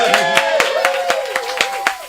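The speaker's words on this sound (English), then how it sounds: "can I get an applause?" A live studio audience at a Portland talk show claps in a steady, quick rhythm over a sustained tonal backing, fairly loud and close.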